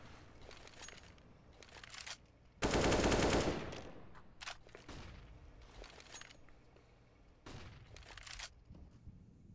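Automatic gunfire in Counter-Strike on the Mirage map during a pro match, with short rattling bursts and one loud sustained volley in the middle, followed by scattered further shots at moderate distance.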